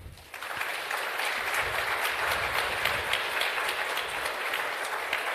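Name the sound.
audience applause for panelists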